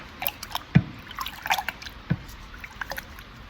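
Water rinses acid off a rusty part from an oval-window VW Beetle, heard as sparse, close drips and small splashes trickling irregularly.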